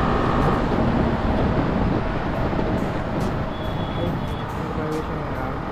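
A BMW G310R motorcycle buzzes with steady vibration noise while riding on a highway, a continuous rumbling drone mixed with wind rush throughout, with no clear speech over it.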